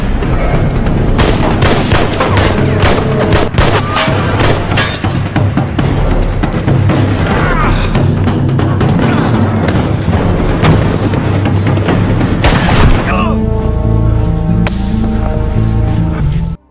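Heavy gunfire from a movie shootout in a bar, with rapid overlapping shots and booming blasts packed tightly together, loud and continuous before thinning into a ringing, tonal tail near the end.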